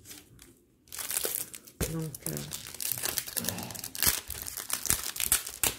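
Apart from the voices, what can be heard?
paper crumpling and crinkling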